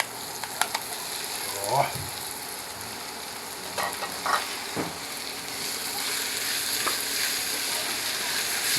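Ingredients for gising gising sauté in a pan until they brown, making a steady frying sizzle with a few stirring scrapes and clinks, close by, with a brief voice at one point.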